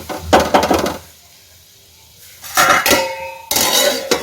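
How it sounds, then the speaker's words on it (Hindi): Vegetables being stirred in a cooking pot with a spoon, then the pot covered with a lid: two bursts of scraping and clattering metal separated by a quiet gap, ending in a clanking lid placement. "ये वाटर ऐड करने के बाद इसे थोड़ा सा चला के मैं ढक दूँगी।"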